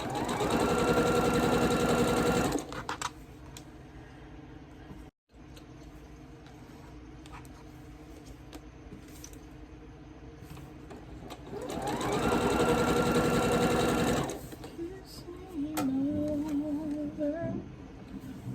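A sewing machine pieces quilt blocks in two short, loud bursts of rapid stitching, separated by a long quiet stretch with faint handling sounds.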